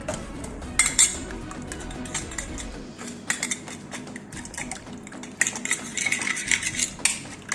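Eggs being beaten with black pepper and salt in a bowl for Filipino tortang talong, a fork or utensil clinking steadily and rapidly against the bowl, close and clear, with no talking.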